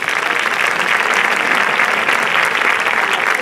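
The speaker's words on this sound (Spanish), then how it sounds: "Un aplauso para él." Sustained, dense applause from an audience at a stage presentation in Málaga, loud and steady throughout the few seconds with no pause.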